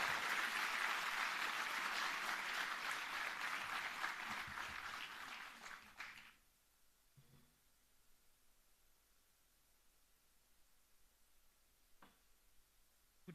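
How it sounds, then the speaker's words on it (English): Audience applause welcoming Nirmala Sitharaman at a conference gathering on a campus, a broad steady clapping from a large crowd for about six seconds, then cutting off to a quiet room with a few faint ticks. "address the gathering with a huge round of applause"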